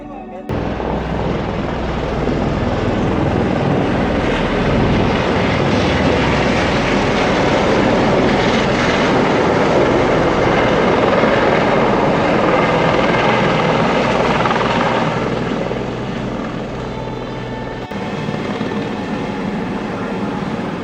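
A helicopter at the Vaishno Devi helipad makes a loud, continuous rotor and turbine roar up close, holding steady for about twenty seconds before it briefly drops away near the end.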